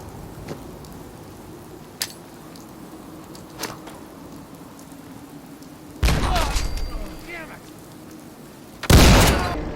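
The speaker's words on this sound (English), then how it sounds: "Let's see if a grenade will do the job." A grenade goes off in Fallout 4 against an enemy sergeant. Faint scattered clicks give way to two loud, close blasts, each followed by rumbling debris and a lingering crackle.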